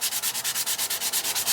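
Hand sanding of an interior trim panel with 180 grit sandpaper: quick, even back-and-forth rasping strokes, about eight per second, close and clear with no talking.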